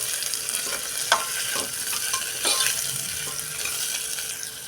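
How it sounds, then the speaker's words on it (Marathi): Potato pieces sautéing with browned onion in a pan, a bright steady sizzle with spatula scrapes and soft clinks, close and without talk. "त्यामध्ये टाकूया ह्या बटाट्याच्या फोडी. हे आपण थोडा वेळ परतून घेऊया."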